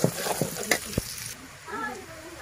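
Onions fry in hot oil with a soft sizzle, broken by a few sharp stirring clatters early on, then settling into a quieter, low hiss.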